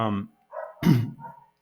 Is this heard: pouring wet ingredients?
no